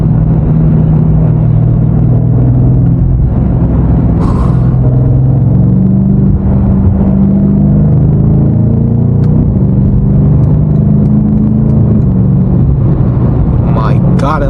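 Twin-turbo 4.4-liter V8 of a BMW M5 Competition F90 rumbling and building revs while driving through city traffic, a deep steady drone rising and falling in pitch, with a voice speaking over it.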